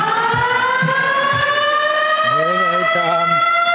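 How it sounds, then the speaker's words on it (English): A siren sounds at a junior hockey arena for the Gananoque Islanders' team entrance, playing loud and continuous with steady rising tones, joined midway by a deeper warbling horn-like layer and some crowd noise. "They'll get a siren going on, a little different music here."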